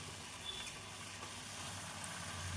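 Sweet rice-flour appam batter frying in hot oil in a kadai over high flame makes a faint, even sizzle that carries on steadily through the short stretch, with no speech.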